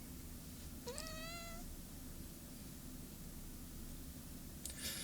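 A pet cat lets out a short complaining meow early on, then a brief grumbling squeak near the end, both faint against a low steady hum.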